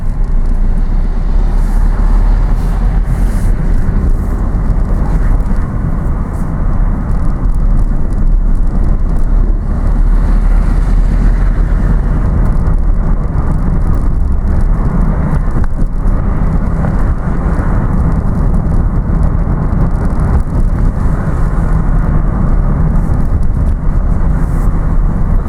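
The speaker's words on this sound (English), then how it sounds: "Okay, so we've got some cars here." Cars pass along a road, a loud, continuous roadway rumble with wind buffeting the microphone and no clear gaps between vehicles.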